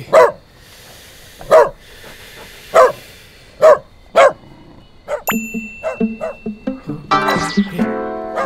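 Five sharp, evenly spaced dog barks ring out loud and close, followed by a flurry of quicker yips and whimpers mixed with a brief tonal ding near the end.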